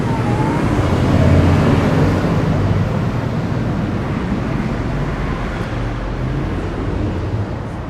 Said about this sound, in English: The amount of noise actually that's coming from the traffic